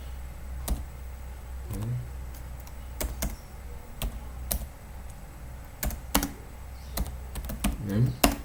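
Typing on a computer keyboard during an operating systems lab session: sparse, sharp key clicks arrive in irregular bursts over a low room hum, with brief quiet murmuring between keystrokes.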